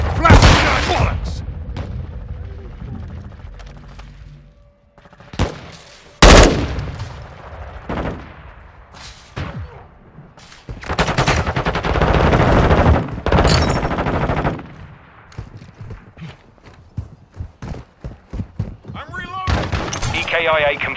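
Rapid automatic gunfire from a Call of Duty Modern Warfare II firefight, with loud bursts and single shots cracking in uneven clusters, some sharp impacts and shattering, while soldiers shout over the shooting.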